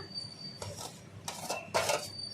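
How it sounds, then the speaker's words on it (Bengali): Potatoes go into a pan of rendered chicken skin frying in its own oil, a few soft clinks and scrapes of utensil against metal over a quiet background. "এবার আমি আলুটাও দিয়ে দেবো"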